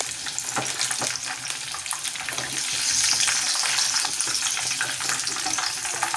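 Chicken pieces fry in hot oil in a kadhai, giving a loud, dense, crackling sizzle that continues without a break and swells slightly midway. No one talks.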